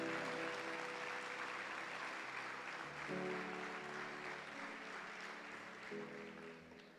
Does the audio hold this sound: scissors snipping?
no